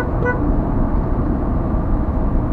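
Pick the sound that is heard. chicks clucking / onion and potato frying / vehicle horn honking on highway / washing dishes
vehicle horn honking on highway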